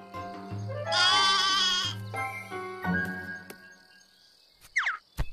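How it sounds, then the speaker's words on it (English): Sheep bleat in a cartoon farm scene, several loud, wavering cries in a row, followed by softer bleats and a few jingling sounds, with no talking. "I tried to call the sheep"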